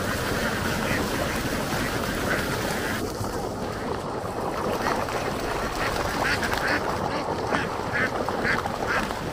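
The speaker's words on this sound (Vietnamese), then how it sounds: "những chú vịt dường như là những chú vịt cuối cùng" A large flock of laying ducks swims back toward the pen across Mekong Delta fields, with dense overlapping quacking throughout, loud and close, and a faint motor hum beneath.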